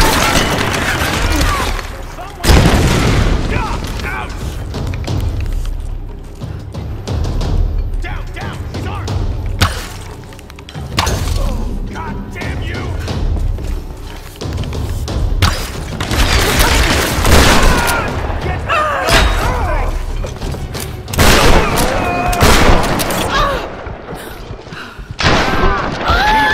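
Gunfire and impacts in the Tomb Raider video game, bursts of shots, thuds and crashes scattered through a busy fight, with voices shouting over the action.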